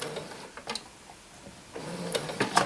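Sewing machine stitching the side seam of a blouse, with short bursts of rapid mechanical needle chatter separated by pauses as the sewer slows toward a pivot point, close and fairly quiet.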